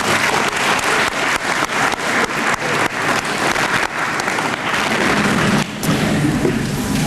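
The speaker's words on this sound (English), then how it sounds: "Let's give them another round of applause." Audience applause for a school stage band at a fine arts awards festival, a loud, dense burst of clapping that runs steadily for several seconds before easing slightly toward the end.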